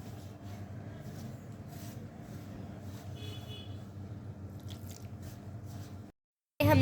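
Maida flour is mixed by hand with lukewarm water into dough, giving quiet, continuous wet squishing and kneading sounds. A short silence follows, then a louder burst.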